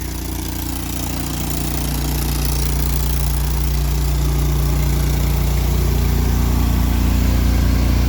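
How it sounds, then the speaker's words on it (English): A Hobart generator welder running at full capacity during a power outage in Texas, a loud, steady, close engine drone with a heavy low rumble that holds unbroken throughout. "So the generator is very loud. It's running at full capacity."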